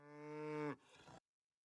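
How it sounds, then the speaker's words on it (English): A single cow moo from a sound-effects library, a loud sustained low bellow that rises and then breaks off into a rougher tail, heard alone and ending abruptly. "That's a cow."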